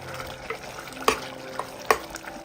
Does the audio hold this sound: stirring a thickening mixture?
yes